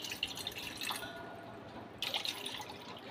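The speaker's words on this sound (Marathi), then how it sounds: "त्याच्यात आता आपण थंड पाणी ॲड करणार आहोत" Cold water is poured into a cooking pot for lemonade, a soft, close splashing and dripping trickle that runs steadily with a brief pause in the middle.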